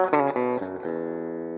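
Electric guitar played through a Lemtone AB763 preamp with reverb: a few picked notes then a sustained ringing chord that decays smoothly with a reverb tail, clean and alone.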